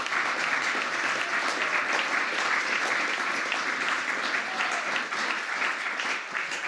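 Steady, dense audience applause fills a large event space at a Hanukkah menorah lighting, sustained and even at full strength for several seconds with no talking over it.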